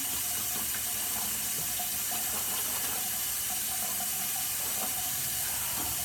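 A bathroom tap runs steadily into a sink while a face is wetted, a continuous close splashing hiss with no talking.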